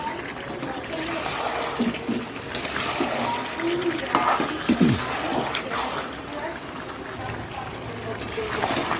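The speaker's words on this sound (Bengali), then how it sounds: "এবার জল দিয়ে দেবো একটুখানি সামান্য হালকা দিয়ে দিলাম জলটা" A small amount of water poured into a cooking pot over sautéed potatoes, a steady running, gushing wash that lasts throughout and is broken by a few clinks, with faint voices in the background.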